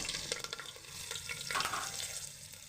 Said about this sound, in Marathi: तुम्ही बघू शकता तेल तापले की आपण मोहरी आणि हिंग टाकून देऊ. कढीपत्ता टाकून देऊ.